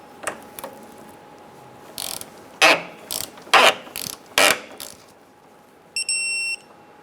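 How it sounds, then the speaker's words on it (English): Torque wrench ratcheting on the upper shock absorber bolts of a 1997-2006 Jeep Wrangler during a rear shock replacement, a series of close, loud clicking ratchet bursts followed by a short high beep, with no talking. "Torque the upper two bolts to 23 foot-pounds."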